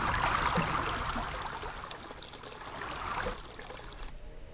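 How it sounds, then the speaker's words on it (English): River water flows and trickles steadily, swelling and easing in intensity as the crossfade shifts, then cutting off abruptly near the end, with no voices. "here's just a simple meta sound patch that crossfades for water intensity"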